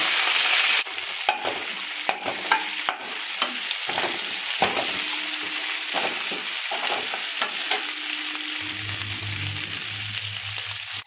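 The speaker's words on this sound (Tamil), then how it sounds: "கருவேப்பிலை, சீரகம், சோம்பு, மிளகு, வரமிளகாய் எல்லாத்தையும் நல்லா வறுத்து நல்லா படப்படன்னு பொரியிற மாதிரி வறுத்து எடுத்துகிட்டு வாங்க" Curry leaves, cumin, fennel, pepper and dried red chilies roasting in a pan with steady crackling sizzle and repeated scraping stirs throughout, close and fairly loud, with a low hum entering near the end.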